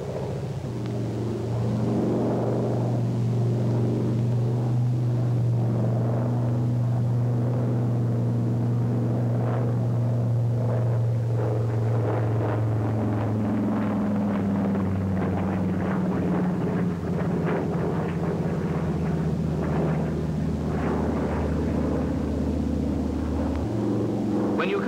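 Navy Brewster FB2A4 Buccaneer plane flying a vertical bank at 170 knots, a steady droning engine rumble that holds loud and unbroken throughout, its pitch shifting slightly partway through.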